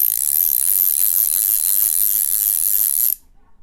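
Orvis Battenkill fly reel clicking loudly while being reeled in, a dense, steady ratcheting buzz that runs for about three seconds, then stops abruptly.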